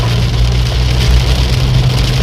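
A car driven through heavy rain on a Pakistani road, giving a steady low engine rumble under a constant wash of rain hiss, close and loud throughout with no talk.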